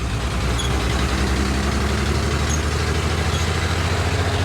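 The engine of a 1951 Chevrolet farm truck pulls in third gear as a continuous, loud, deep rumble with a rough, throbbing texture, close up and unbroken throughout.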